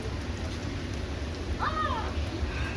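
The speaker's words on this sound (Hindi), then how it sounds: "देखो गाइस कैसी बारिश हो रही है, आज मैं बारिश में नहा रही हूँ।" Heavy rain falls steadily and loudly, a dense continuous hiss of drops hitting surfaces, with a brief faint voice-like sound partway through.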